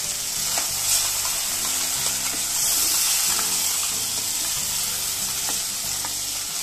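Smooth masala paste fries in butter for a restaurant-style paneer butter masala gravy, giving a constant close sizzle under repeated soft scraping and stirring strokes of a spoon in the pan.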